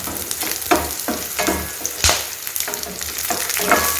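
Fennel seeds, cinnamon and cloves sizzle and fry in oil in a pan for a kurma, with steady crackling and a few stirring scrapes close by, no talk.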